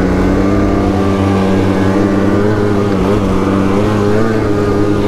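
Polaris 9R snowmobile engine running steadily up close on a first ride, a loud continuous motor drone with strong harmonic hum and slight variations in pitch throughout.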